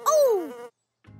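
A cartoon insect gives a loud, quick descending buzz lasting under a second, then falls silent before a low murmur returns.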